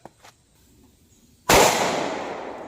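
A single sharp 9mm pistol shot from a short-barrel Ruger LC9S with a 3.1 inch barrel firing 115 grain Nosler ASP rounds, loud and close, with a long ringing decay after a couple of faint ticks.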